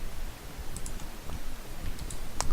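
A computer mouse clicks a few times while painting textures in Blender, giving short faint clicks against steady background hiss, with no voices.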